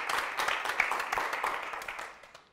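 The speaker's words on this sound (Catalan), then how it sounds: "Un aplaudiment per aquestes puntuacions." A studio audience on a Catalan TV quiz show for school teams applauds the scores, with dense, steady clapping that fills the clip and fades slightly toward the end.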